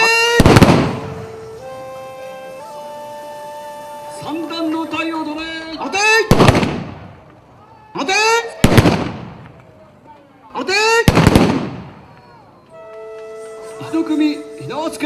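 Matchlock guns fire in a Takashima gunnery display: four loud, sharp reports spaced a few seconds apart, each with a booming tail, while sustained tonal chanting or horn-like calls continue between shots.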